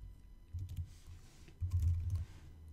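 Soft, close keystrokes come in two short bursts of typing on a computer keyboard as a regular expression is entered, quiet with a faint room hum between and no speech.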